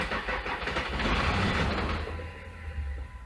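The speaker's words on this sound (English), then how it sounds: "So I'm now going to crank engine." A Jeep engine cranks over on a weak battery, a steady mechanical churning that runs loud and close for a few seconds without catching, with no talking.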